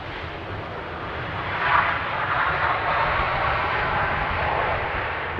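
Jet aircraft engine roaring steadily at Amsterdam airport on a windy day, a broad continuous rumble from a plane moving toward the runway, fairly loud and without talk.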